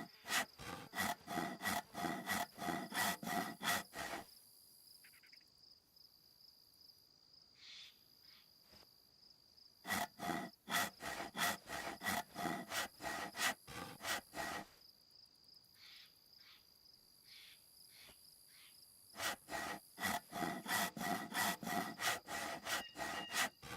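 Hand saws cut through wood in long bursts of rapid, rhythmic back-and-forth strokes, loud and close, broken by quiet pauses where a faint insect-like chirp lingers.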